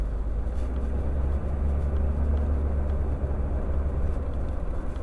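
A 1946 Chrysler Town & Country with Fluid Drive runs in high gear, its engine a steady, loud, low rumble with constant drone throughout and no talk.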